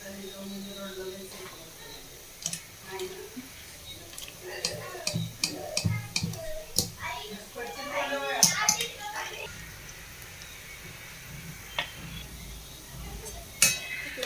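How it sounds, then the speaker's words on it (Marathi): Cooked vegetables for pav bhaji are mashed in a large plate, with irregular close scraping, tapping and clinking of the utensil against the plate over a low background. "तोपर्यंत आपण आता भाजी बारीक मॅश करून घेणार आहोत."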